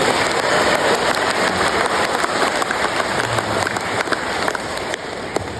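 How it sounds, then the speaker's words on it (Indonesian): Participants at a hajj officer training session in a hajj dormitory applaud a religious teacher. The clapping is a dense, rain-like wash that stays fairly loud and steady, with a few sharper claps standing out near the end. "Tepuk tangan dong buat Kiai Wiwit"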